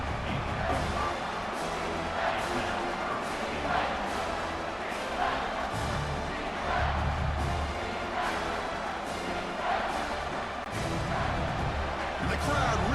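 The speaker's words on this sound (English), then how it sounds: "the crowd really making some noise now, trying to help out this defense" A football stadium crowd roars during the Texas at Oregon college game as the defense tries for a stop. The loud, sustained wash of noise pulses with surges of cheering, and a voice may run faintly underneath.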